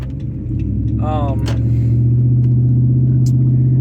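Steady low road rumble from inside a moving car on the way home, loud and continuous throughout, with a brief voice-like tonal sound partway through.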